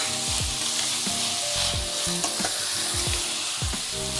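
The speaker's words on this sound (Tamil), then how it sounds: "ஸோ பச்சை மிளகா, நம்ம வெங்காயம், தக்காளி, பச்சை மிளகா எல்லாம் போட்டு நல்லா வதக்கணும்" Onion, tomato and green chili sautéing in a pan, a loud, dense sizzle with quick stirring scrapes, close up, beneath a constant background of music.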